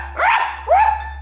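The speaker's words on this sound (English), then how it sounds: "That's a dog." A dog gives two short, close barks about half a second apart, loud and clear against a steady low hum, alone without talk.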